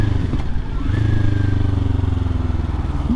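A motorcycle rides along a road in traffic, its engine a steady low rumble with a brief rise in pitch, heard close and continuous with no talking.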